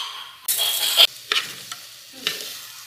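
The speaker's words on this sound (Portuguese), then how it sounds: "vou refogar o arroz" Rice being sautéed in a pan with salt gives off bursts of sizzling and frying, broken up by sharp scraping stir strokes that come in uneven pulses, close and fairly loud.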